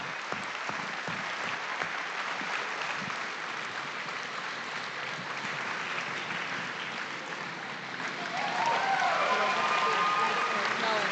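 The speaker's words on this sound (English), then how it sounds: "give a great big round of applause for this accomplishment" Sustained applause from a crowd at a 4-H market beef show at a state fair, steady and dense throughout, swelling louder near the end with some cheering.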